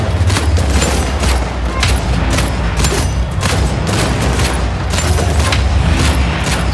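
Dense gunfire in Uncharted 4 survival mode: loud, continuous bursts of rapid shots and booms overlap without a break, forming a sustained firefight.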